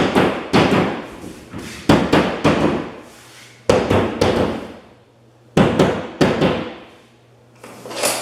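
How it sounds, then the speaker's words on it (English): A hammer taps the corners of a metal door hanging bracket in short sharp bursts, about ten close, loud knocks clustered in quick pairs and groups with pauses between, over faint low hum. "You take your hammer, you tap"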